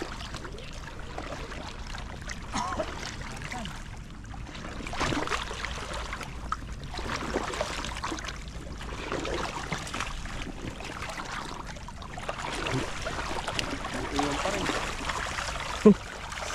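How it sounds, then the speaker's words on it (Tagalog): A strong river current rushing over large slippery rocks: a dense, continuous roar of water with surging swells, heard up close, and a brief knock near the end. "Saka lakas po ng agos."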